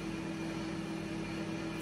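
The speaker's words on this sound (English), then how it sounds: "Straight in the microwave the next meal." A microwave oven heats a meal with a steady, unbroken hum and constant low drone, close and even throughout with no talk.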